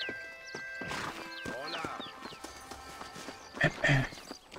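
A horse in the video game Red Dead Redemption, steady clip-clop of hooves with a louder whinny or snort near the end, over background game sounds and other noises.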